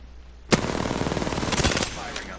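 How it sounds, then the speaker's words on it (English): Sustained automatic gunfire erupts suddenly in a rapid, loud burst lasting about two seconds, with dense overlapping shots and a slight swell near the end. "Firing on subjects."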